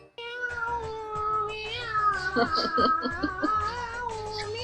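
A cat meows repeatedly in drawn-out, rising and falling cries, loud and close, with a short harsher caterwaul in the middle and some background commotion underneath.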